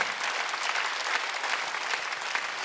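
A church congregation at a Sunday worship service claps steadily, a dense, even roll of many hands sustained throughout with no voices over it.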